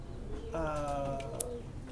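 Racing pigeons at a Merpati Kolong pigeon race coo in a short, steady, droning call that rises for about a second amid low background rumble and a brief sharp click.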